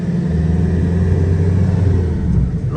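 A Nissan Navara 4x4 pickup truck driving in two-wheel drive, heard as a steady low engine and road rumble from inside the cab, constant and fairly loud with no talk.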